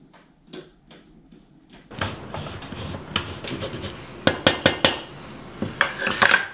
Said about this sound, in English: I'm also going to grate what's left of this block of